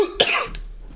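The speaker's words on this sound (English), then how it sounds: "Hoping everyone liked me coughing directly in their ears" One sharp, close cough bursts out, followed by a brief rasp as it fades.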